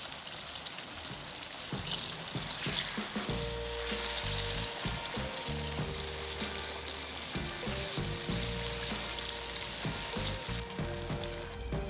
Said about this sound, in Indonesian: Kemudian goreng hingga permukaannya kering.